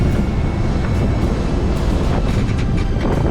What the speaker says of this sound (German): Von da an rollen immer wieder Fallböen von querab über unser Boot und die Sturmböen aus Kielrichtung werden immer massiver